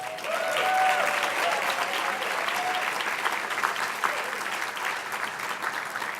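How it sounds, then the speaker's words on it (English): Applause from the audience at a gala celebrating 42 years of a service organisation, sustained and fairly even for several seconds, with a few faint voices and whistles mixed in. "Kaushik Roy, who you ought to clap for,"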